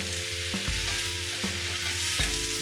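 Salted spinach leaves wilting in a hot pan give a dense, steady sizzle, broken by a few distinct stirring scrapes, heard up close and alone.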